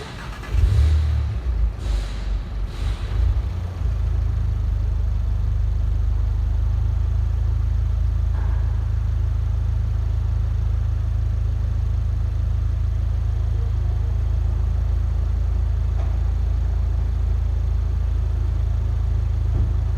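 A Volkswagen MK7 GTI engine cranks and catches with a few sharp bursts, then settles into a loud, steady low idle rumble that continues throughout.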